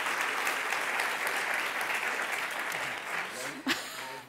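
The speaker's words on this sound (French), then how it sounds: "Alors, on les applaudit." An audience applauds panelists being invited onstage at a Polytechnique event, a full, steady round of clapping that thins toward the end as a voice begins speaking over it.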